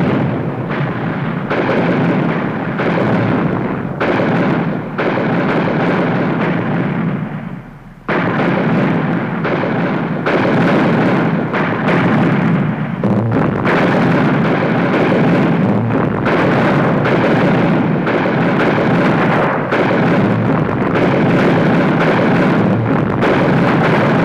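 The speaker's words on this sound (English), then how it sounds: "For 2 hours, beginning at 1 p.m, Confederate artillery shelled the center of the Union lines with 138" Heavy Civil War Confederate artillery bombardment at Gettysburg, a barrage of some 138 guns: dense, continuous booming cannon fire with overlapping blasts, loud and sustained, and a brief lull near the eighth second.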